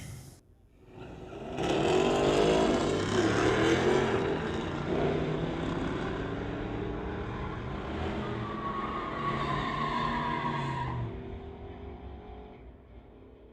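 Classic Chevy and a 2014 Ford Mustang launch side by side in a street-legal drag race, engines roaring loud and sustained for about nine seconds as the cars pull away, then fading.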